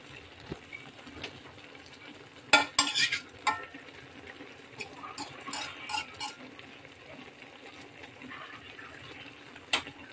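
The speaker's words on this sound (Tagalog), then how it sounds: "At prito po tayo ng isda." Fish fries in a pan, a soft sizzle running underneath while a spatula or utensil clatters and scrapes in short bursts near the middle and end.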